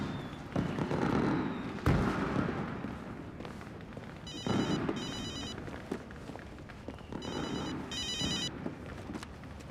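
Firecrackers burst outside during New Year celebrations, with several muffled, distant bangs spread through a steady crackling din, while a telephone rings in repeated bursts closer by.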